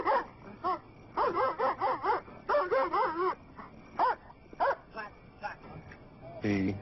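A sheriff's deputy's police dog barks in a rapid string of sharp woofs and yips, close and loud, with a few separate barks trailing off toward the end.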